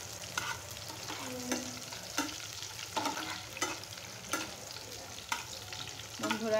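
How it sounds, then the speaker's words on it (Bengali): Ingredients fry in a pan while a spoon stirs and scrapes them in repeated, regular strokes over a constant close sizzle as they brown. "এখন এগুলোকে আমি ব্রাউন কালার করে ভেজে নেব"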